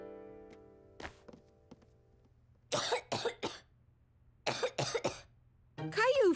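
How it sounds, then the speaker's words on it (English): A young child in a cartoon coughs while sick with the flu: two close bursts of three or four dry, hacking coughs, each following a short pause, then a brief vocal sound at the end. Quiet background music plays underneath. "Caillou felt hot and was coughing"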